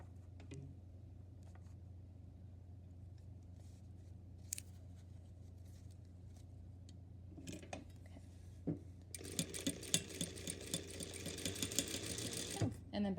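A home sewing machine stitches a bound Hong Kong seam, a faint motor hum at first that turns into a louder, rapid mechanical rattle of stitching near the end, with a few clicks along the way.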